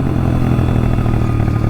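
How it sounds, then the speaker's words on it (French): A small dirt bike engine idles up close with a steady, even putter and a faint rattling clatter, loud and continuous, with no voices. "ce qui est kiffant par contre sur les dirt, c'est le bruit"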